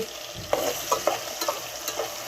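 Onions and tomatoes fry in a pan for egg kurma, giving a steady sizzle with several soft stirring scrapes spread through the moment.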